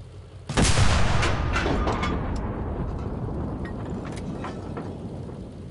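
A single heavy tank cannon shot booms close and loud in Enlisted, a sharp blast followed by a long rumbling decay that fades over several seconds.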